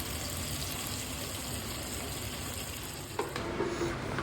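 Cumin and coriander seeds sizzle steadily in hot oil in a pan, a dense continuous crackle heard close up, with a brief clink and stirring near the end; no talk.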